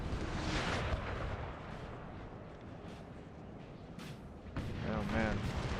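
Artillery fire in the Napoleonic Total War 3 game, a stone-wall battle: dense booming cannon rumble from several guns, loud and layered, with a talking voice over it.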